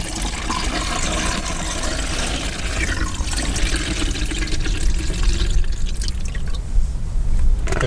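Film developer is poured steadily into a developing tank outdoors in the desert, a continuous close liquid splash and gurgle lasting several seconds without pause.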